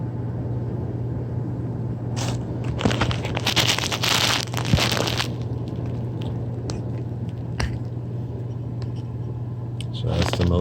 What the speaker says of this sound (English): So that's the motor spinning for the damper.